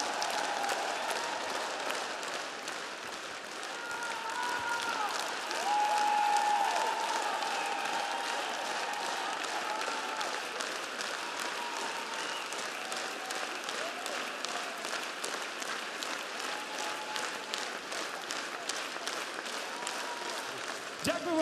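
Concert hall audience applauding after an orchestra performance of the National Radio orchestra: steady, dense clapping that continues evenly for the whole stretch at moderate, slightly distant level, with brief voices under it.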